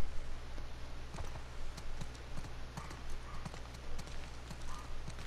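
Horse hooves clip-clopping at a steady walking rhythm in The Last of Us Part II, with a low constant hum and ambient game sound beneath.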